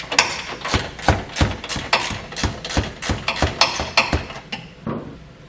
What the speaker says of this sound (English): you'll likely need to use a wrench to get this one off because the body mount's kind of right behind it